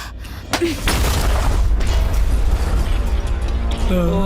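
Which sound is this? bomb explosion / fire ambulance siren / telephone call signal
bomb explosion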